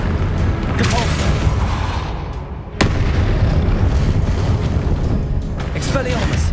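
A Repulso spell cast in Hogwarts Legacy, a sharp burst-like blast rising out of continuous rumbling combat noise, with a voice calling out spells around it.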